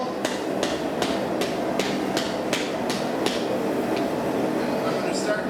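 Hammer blows on knife steel at the edge of an anvil while forging a seax, about ten regular strikes over a dense steady background rumble, with no voices heard.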